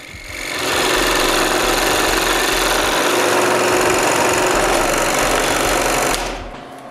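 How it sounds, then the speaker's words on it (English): A scroll saw cuts 6-inch holes in wood, producing a loud, close, continuous buzzing rattle of the rapidly reciprocating blade that starts up, runs steadily for about five seconds, then winds down. "Again, with the scroll saw, I cut both 6-inch holes."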